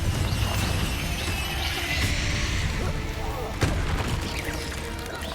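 Confringo blasting-spell explosions in Hogwarts Legacy combat against spiders: a dense, loud wash of booms and crashing debris runs throughout, with a sharper blast near the end and voices mixed into the din.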